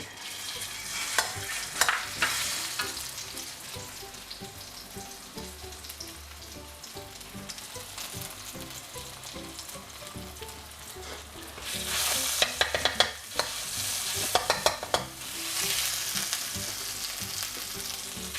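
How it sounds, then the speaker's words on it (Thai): Steady sizzling as curry paste fries in a hot pan over medium heat, with scraping stir strokes that grow louder and busier partway through; no talking. "จากนั้นก็ค่อยๆผัดพริกแกงนะครับ ให้มันมี กลิ่นหอมนะครับ"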